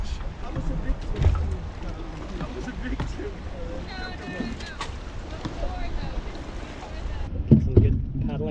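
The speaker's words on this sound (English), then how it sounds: "Get some good paddling footage." Paddles dipping and splashing as a boat moves on the sea off Sicily between Palermo and Cefalu, with wind rushing over the microphone and a few quiet voices in the background.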